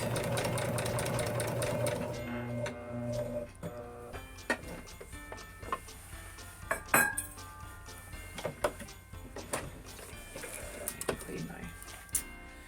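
A sewing machine stitches an A-line skirt, starting with a steady running whir that breaks off into clicks, clatters and handling knocks of fabric and thread near the machine.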